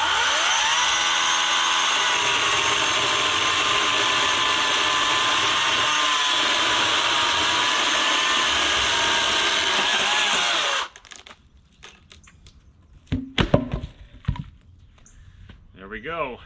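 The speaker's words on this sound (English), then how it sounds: "the chainsaw really did a good job and cut right through it" Greenworks battery-powered chainsaw cutting through a 6x6 landscape timber, a loud, continuous high whine for about ten seconds that stops abruptly, followed by scattered clunks of wood.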